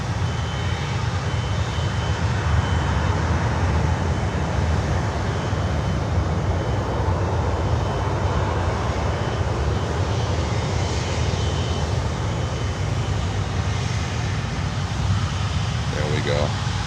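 An Avianca Cargo jet at Miami airport roars with a broad, steady engine rush that stays loud and even throughout, with a faint beeping near the end.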